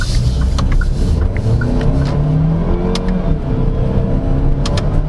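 A 2024 GAC GS8 4WD seven-seat SUV accelerates hard with throttle sensitivity set to 5, a loud, steady engine roar and rumble heard from inside the cabin, rising slightly, with no talking.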